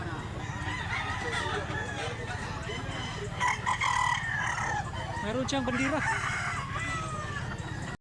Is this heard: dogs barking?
no